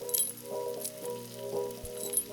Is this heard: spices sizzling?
yes